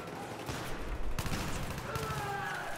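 Bursts of automatic rifle fire from an F2000 assault rifle in the Battlefield 3 video game, rapid cracking shots running steadily under a busy game soundscape with some voice present.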